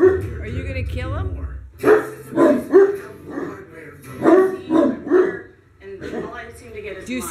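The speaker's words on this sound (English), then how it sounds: "You don't even know what he's barking at." A dog barks in a quick series of sharp, close barks, mixed with whimpers, while a person talks over and between them.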